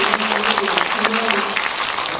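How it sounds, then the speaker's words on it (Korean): Moviegoers in a cinema hall applaud during a post-screening talk for a historical film, a steady wash of clapping with a voice talking faintly through it. "큰 박수 나오고 있는데요"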